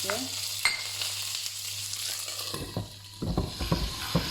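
Peppers tipped into frying potatoes in a pan for a breakfast omelette, a loud close sizzle that keeps crackling steadily, with a clink and a brief stir partway through.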